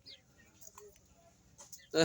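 A rooster clucks in short scattered bursts against a quiet background, ending with a loud, close squawk.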